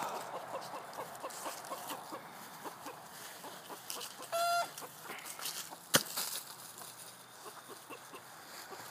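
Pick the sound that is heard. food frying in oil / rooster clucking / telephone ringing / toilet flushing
rooster clucking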